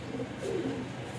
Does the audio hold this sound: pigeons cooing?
yes